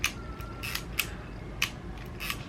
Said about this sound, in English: The shutter fires, it might be a little bit on the slow side.